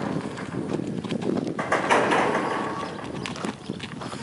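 An unshod flea-bitten dapple gray Thoroughbred gelding walks, its bare hooves clip-clopping in a steady, close rhythm for several seconds with no other sound on top.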